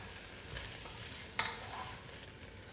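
Sugar snap peas are tossed into hot oil with fennel and spices, sizzling quietly in a pan with a soft clatter as they land and faint stirring afterward.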